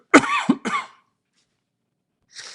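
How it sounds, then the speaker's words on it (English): Two quick, close coughs in a row, followed by silence and then a faint breathy sound. "You're going to hear me cough today."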